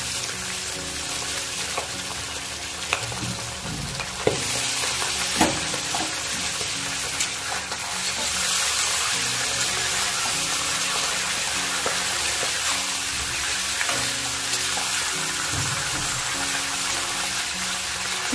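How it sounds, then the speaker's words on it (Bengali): Washed chicken pieces fry with onions in an uncovered pan, a continuous loud hissing sizzle with a few sharp pops and light stirring knocks throughout, nearby and steady, without any talking. "চিকেনটাকে ঢাকা ছাড়া একটু ভেজে নেব"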